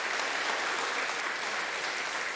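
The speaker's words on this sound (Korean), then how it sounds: "잠시 일어나시면 박수로 환영하겠습니다." A church congregation claps to welcome a visiting guest, a dense and even burst of applause throughout the short moment with no talking over it.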